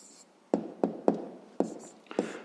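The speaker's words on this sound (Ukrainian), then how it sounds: "Пишемо відповідь." Five quick pen-on-paper strokes sound close and soft as an answer is written by hand for a fifth-grade math exercise, with quiet gaps between them.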